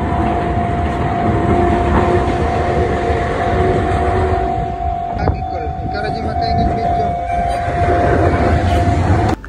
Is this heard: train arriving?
yes